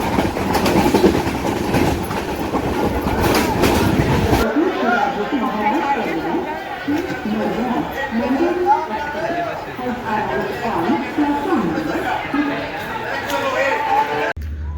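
The Mandovi Express passenger train rumbles and clatters along the tracks, loud at first, then settles into a steady run under the chatter of many passengers.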